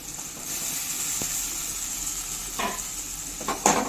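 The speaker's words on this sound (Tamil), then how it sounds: "நல்லா பச்சை வாடை போகிற அளவுக்கு நல்லா வதக்கிடுவோம்" Ginger garlic paste sizzles steadily in a hot frying pan with a constant hiss, punctuated by a few sharp scrapes and stirring clacks near the end.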